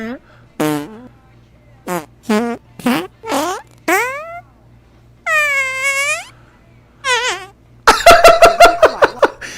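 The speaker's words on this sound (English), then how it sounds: "all they do is they take her content and put farts over them" Cartoonish fart sound effects dubbed over a woman's food content: a string of short, tonal blasts and squeaky bursts of varying pitch, some drawn out and wavering, ending in a rapid rattling flurry, loud and upfront with a faint steady hum underneath.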